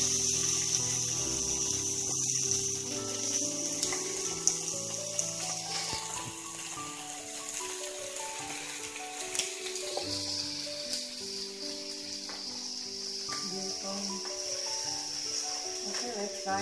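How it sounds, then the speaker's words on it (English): Pork ribs fry in warm olive oil with a steady faint sizzle throughout, under background music and some talk. "Now I will put pork ribs inside. I will fry them on both sides."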